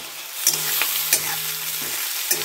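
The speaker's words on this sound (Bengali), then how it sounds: "যতক্ষণ না পেঁয়াজটা বাদামি হচ্ছে তখন পেঁয়াজটাকে ভাজিয়ে নিতে হবে।" Chopped onion sizzles steadily in a hot pan on the way to chicken and potato curry, with sharp spatula taps against the pan every half second or so and no voices.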